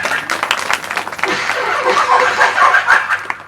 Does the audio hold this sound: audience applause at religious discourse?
yes